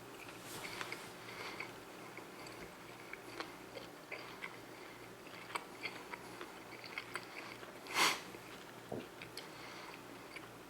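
Soft, close chewing and crunching of Carolina Reaper beef jerky with the mouth shut, occasional clicks and a brief louder rustle, quiet and steady with no talking.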